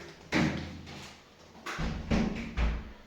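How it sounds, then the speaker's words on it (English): A glass shower door rattles and thuds as it opens, with a few knocks and a sliding bump against a quiet room. "So you just open the door, walk in."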